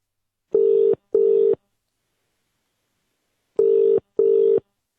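A telephone ringing tone on a call placed from a studio sounds in clean double pulses, two short rings, a long silence, then two more, with no dialing tones evident.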